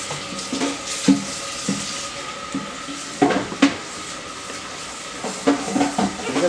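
Running tap water splashes into a sink while dishes are washed, with intermittent clinks and knocks of pots and plates over a steady close-up hiss.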